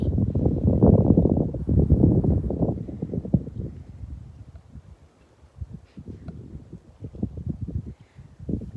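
Wind blows at a lakeside, buffeting the microphone in heavy low gusts that ease off midway and then return in choppier bursts.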